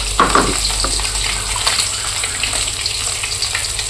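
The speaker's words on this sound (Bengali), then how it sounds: "এই যে আমি মাছ ভাজতেছি" Fish frying in a pan in a home kitchen, giving a steady, close oil sizzle with a few brief bubbling pops near the start.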